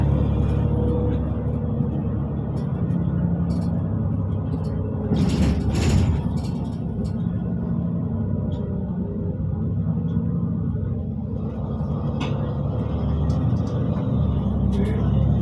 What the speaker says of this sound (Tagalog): Ayan ang bus ko guys, parating na.